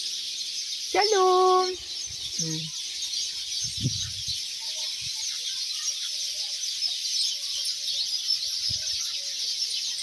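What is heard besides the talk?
flock of small birds chirping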